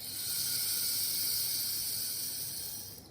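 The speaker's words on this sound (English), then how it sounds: "Let's listen to the rain stick again." A steady, continuous hissing rattle of dry pasta cascading inside a homemade rainstick tube as it is turned, like soft rain, sustained and fading slightly at the end.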